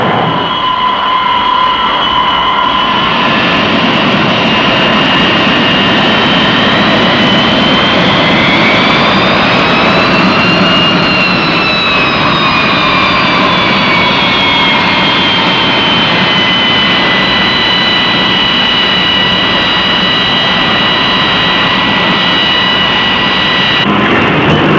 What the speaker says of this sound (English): The approach of the carrier on-board delivery plane is a welcome sight